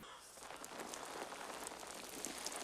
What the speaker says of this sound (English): A little spritz of cool, clean mountain rain